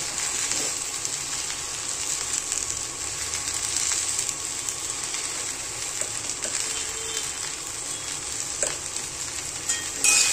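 Okra (bhendi) fries in a pan, a close, steady crackling sizzle that holds throughout with a few faint stirring scrapes and no talk.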